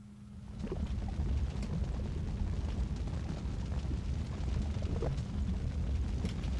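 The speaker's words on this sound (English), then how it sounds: "Using the rocket launcher." A rocket launcher blast in the classic shooter Marathon 2 sets off a sustained low rumbling roar that swells in and holds steady, with scattered crackles over it.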